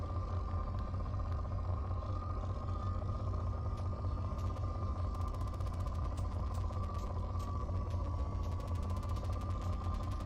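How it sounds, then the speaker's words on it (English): A probe launches in the Mass Effect video game, heard as a steady mechanical hum and drone, joined partway through by faint, rapid ticking clicks. "Probe launched."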